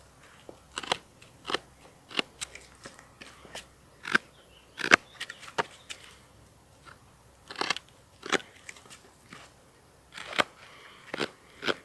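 A knife carves a notch into a wooden hand-drill fireboard for fire making, giving sharp, irregular crunching cuts and scrapes, close and fairly quiet, with short pauses between strokes.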